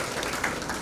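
An audience at a Ramayana katha opening welcomes the inaugurator with a brief burst of steady, dense clapping.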